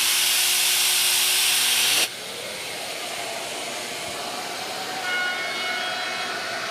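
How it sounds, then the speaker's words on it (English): Shaper Origin handheld router cutting wood, with a loud high motor whine that suddenly drops into a steady rough cutting roar and continues evenly. "Origin is basically working like your standard plunge router"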